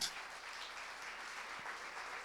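An audience at a panel event in Medellín applauds the panelists, a steady, fairly quiet wash of clapping heard from within the room.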